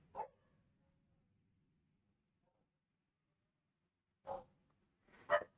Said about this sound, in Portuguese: E se vocês estiverem ouvindo o barulho do cachorro no fundo,